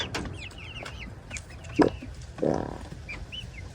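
Chickens cluck in short, throaty bursts at close range, a couple of louder calls standing out over a low, steady farmyard background.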